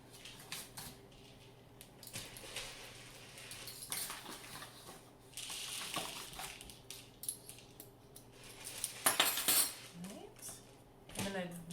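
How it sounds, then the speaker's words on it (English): A whisk clinks and scrapes against a bowl as flour is gently worked into chocolate lava cake batter, irregular metallic taps and swishes in bursts, fairly quiet and close, with a busier run of clinks toward the end. "I'm going to gently whisk this all together."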